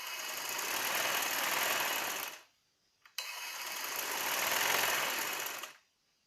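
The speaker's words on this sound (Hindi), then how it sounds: "इलास्टिक को हल्का हल्का खींचते जाएं और साथ साथ रखते हुए सिलाई लगाएं" A sewing machine stitches elastic onto the sleeves of a baby's summer frock. It runs in two close, steady bursts separated by a brief pause with a small click, and then it stops.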